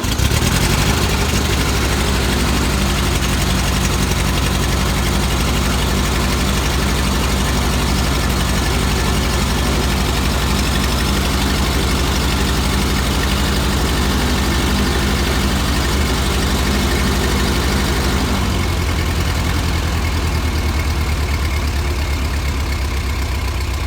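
A Ford 2N tractor engine runs at full throttle, giving a loud, steady, low mechanical drone with a continuous rapid throb. Near the end the engine note drops and shifts.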